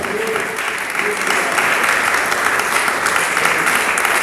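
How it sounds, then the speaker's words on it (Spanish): A church congregation applauds the Lord during a sermon, loud dense clapping from many hands, sustained and even throughout with no voices over it. "denle palmas al Señor"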